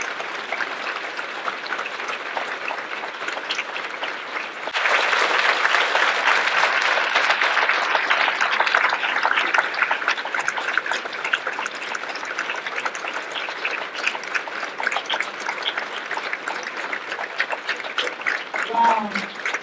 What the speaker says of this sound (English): Keep clapping because she deserves it